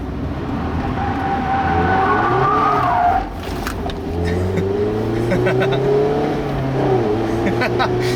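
Tires skid and scrub as a 2016 Mazda MX-5 Miata slides, engine droning and shifting pitch, loud and near, with a brief dip partway through.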